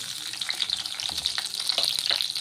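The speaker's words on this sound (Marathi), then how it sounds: "इथे मी 1 कांदा कापून घेतलेला, हा कांदा टाकायचा यामध्ये" Sliced onion frying in hot oil with crackling cumin seeds gives a steady, close sizzle, with faint stirring scrapes and pops throughout.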